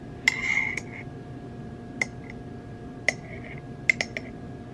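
Heart-shaped spoon clinking against a glass while stirring an iced matcha drink with cold foam: a brief scraping stir, then several sharp, bright single clinks spaced apart, close and fairly quiet.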